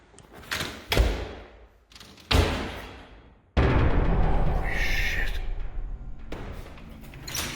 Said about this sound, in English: 3 loud, forceful bangs, the spring-loaded hatch retracting hard against the ceiling